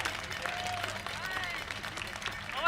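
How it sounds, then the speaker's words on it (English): Crowd applause at a May Day International Workers' Day rally in Hawaii, steady dense clapping throughout with voices mixed in. "one more big round of applause."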